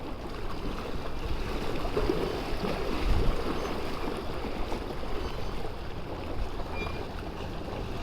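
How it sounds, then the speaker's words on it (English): A boat passing on the water by a lakeside or shore, a faint low rumble under a constant wash of lapping water and light wind, distant and steady throughout. "I wasn't expecting that boat to come through."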